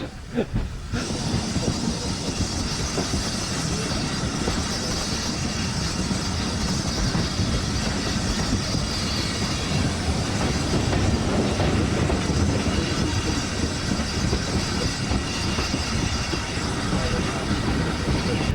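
A steady, loud rumble of a train rolling along rails with rhythmic clickety-clack of wheels and a hissing undertone, continuous throughout.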